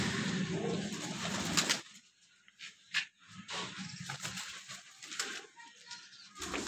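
Sialkoti Golden Teddy pigeons cooing in a loft setup, soft repeated coos near the mic over a rough background rustle that drops out briefly partway through.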